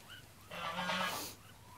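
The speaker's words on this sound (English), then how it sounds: "Duckling's stealing your pineapple, Bull." A duckling in a video game quacks once, a short nasal honk-like call about a second long, heard fairly clearly over a quiet background.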